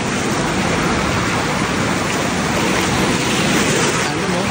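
Ocean waves make a loud, continuous rushing wash, like surf breaking close by, steady and broadband with no distinct pauses.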